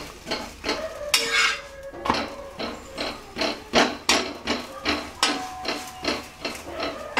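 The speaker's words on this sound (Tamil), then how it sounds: "நல்லா கரண்டி வச்சு நல்லா அமுத்தி விடுங்க." Chapathi pressed against a hot pan with a ladle over medium flame, giving a steady series of soft, close scraping and tapping thuds with a light sizzle throughout, alone without talk.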